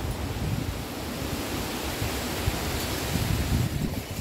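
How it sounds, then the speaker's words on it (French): Outdoor wind blows steadily through an improvised plant tour, a continuous broadband rumble and rush with low gusty buffeting that swells slightly near the end, with no voices. "J'entends le vent."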